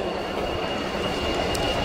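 RAF Eurofighter Typhoon FGR-4 jet in a flying display at RIAT 2016, Fairford: a steady, broad jet roar with a faint whine, continuous and fairly distant for about two seconds, with no voices.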